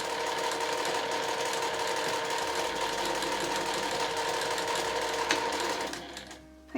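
Sewing machine stitching a seam 7 mm from the edge of fabric, running steadily with a close, even mechanical whir before slowing and stopping near the end.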